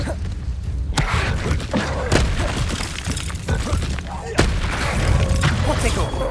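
In the Hogwarts Legacy video game, the Incendio fire spell goes off in bursts of booms and thuds. Sharp impacts ring out over a dense rumble of combat effects.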